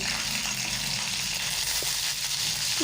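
Black mustard seeds and green chillies tempering in hot sunflower oil, a steady, moderate sizzle with faint crackles and small pops throughout.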